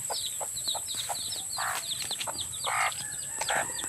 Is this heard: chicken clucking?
yes